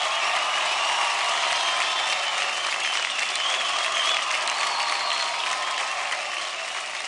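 A television dance-show audience applauds Shamak sir with loud, steady clapping that fills the whole stretch, easing slightly at the end, with no voices.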